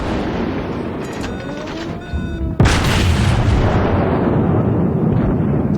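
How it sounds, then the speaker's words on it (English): A South Carolina battleship's main guns fire in World of Warships, one sudden loud boom with a rumbling tail after a stretch of steady engine and sea noise, no voices. "Double click, by the way, to fire all available guns."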